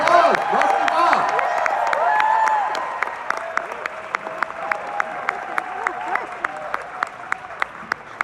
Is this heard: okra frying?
no